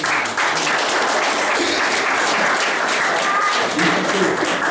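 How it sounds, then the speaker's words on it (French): Guests at a 40th wedding anniversary gathering applaud the married couple, a steady, close crowd of clapping hands throughout, with some murmured voices mixed in. "On veut les applaudir."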